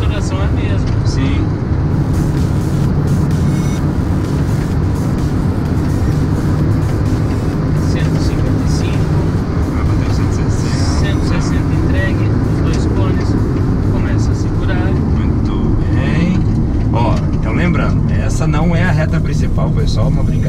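A Hyundai HB20 1.0 turbo driving at high speed, its engine and road noise forming a steady loud drone throughout, with people talking over it inside the car.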